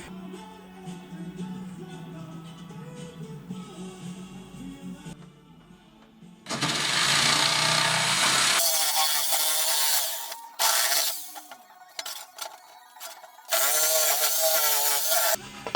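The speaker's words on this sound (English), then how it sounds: "home brand jigsaw to cut it." Home-brand jigsaw cutting aluminium sheet for a custom motorcycle fuel tank, loud harsh buzzing bursts starting midway, stopping and restarting, after a quieter mechanical stretch.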